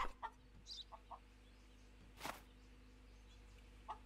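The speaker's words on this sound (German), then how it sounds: "Hinten zwei Hühner." Two chickens riding in the back of a vehicle's cargo at a border checkpoint in the game Contraband Police, giving a few short, faint clucks and squawks scattered over a low background hum.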